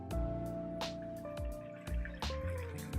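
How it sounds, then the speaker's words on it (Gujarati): Water pours and trickles into a glass jar packed with amla (Indian gooseberries) pickled with turmeric and salt. A steady splashing stream and occasional drips play up close, with no voices. "હવે આપણે આ પાણી છે એ પણ નાખી દઈશું અંદર."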